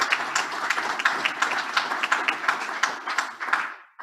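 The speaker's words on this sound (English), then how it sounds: "Give yourselves a round of applause" An audience at a Rotary district training session claps briefly, a moderately quiet, fairly sparse round of applause lasting about four seconds before fading out.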